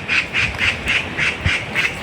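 A bird repeats a harsh, quacking call in a quick, even rhythm, about seven times in a row, loud and fairly near.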